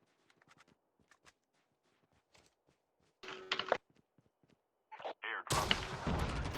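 Gunfire in the mobile shooter Call of Duty Mobile, with a burst of shots around mid-clip and a louder sustained volley near the end, following quiet scattered footsteps and small game noises.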